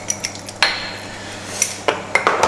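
A spoon clinks and scrapes against a pot while potato paprika stew is stirred, a handful of sharp metallic taps spaced irregularly over a quiet background, close by and alone.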